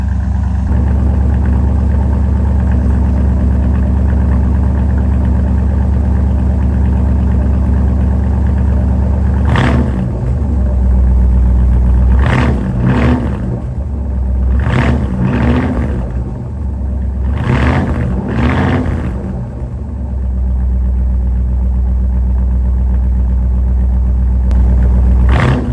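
A 1960s Chevrolet Impala engine with Cherry Bomb M80 dual exhaust idles with a deep exhaust rumble, then revs sharply several times in quick bursts before settling back to idle.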